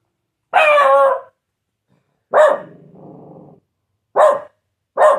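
A pet dog indoors lets out four sharp, loud barks spaced a second or two apart, one trailing into a low rumbling growl, close by and with no talking.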